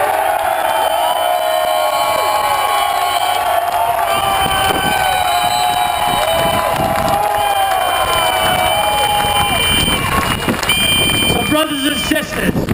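A large crowd of about 15,000 at a Verizon labor union rally, a continuous roar of cheering and whoops mixed with amplified speech and scattered shouts throughout.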